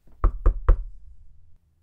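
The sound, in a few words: knocking on a house door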